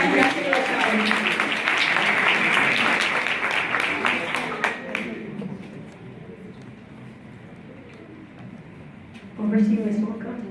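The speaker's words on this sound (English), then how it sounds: "Round of applause. Congratulations." Applause from an audience at a speech event, a dense wash of clapping for about five seconds that fades to quiet room noise, with a voice speaking briefly near the end.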